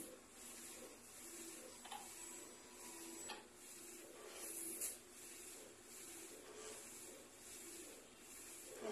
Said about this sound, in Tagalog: Tsaka clean nozzle. Dalawang beses po yung pag-clean nozzle niya.